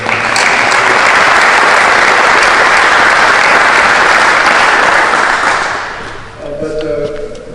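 A loud, dense round of applause from an audience at a school-reopening roundtable rolls on for several seconds, then fades away as a voice begins speaking.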